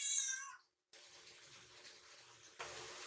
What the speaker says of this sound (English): cat's so loud